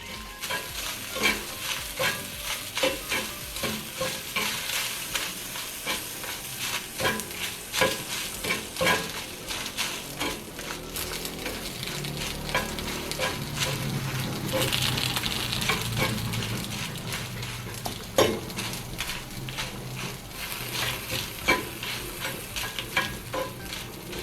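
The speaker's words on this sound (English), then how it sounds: "we are turning them and roasting the peppers without burning them" Dried chile de árbol peppers roast on a hot pan or comal, a steady close sizzle broken by repeated scraping and stirring strokes as they are turned.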